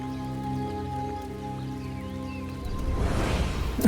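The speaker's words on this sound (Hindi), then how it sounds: "अचानक बारिश शुरू हो गई।" Sudden rain beginning to fall in a Hindi TV drama scene, a steady hiss that swells louder and denser in the last second over a background of sustained music tones.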